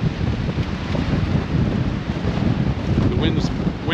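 Breezy wind gusting across a beach promenade at Playa de Palma, Mallorca, a steady close rush and buffeting on the microphone throughout, with a faint higher whistle near the end.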